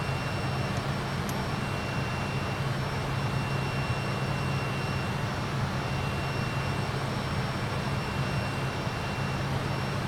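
Steady jet airliner engine drone of the Just Flight F28 Professional in a flight simulator, a continuous broadband roar with a low hum that holds evenly throughout, with no talking.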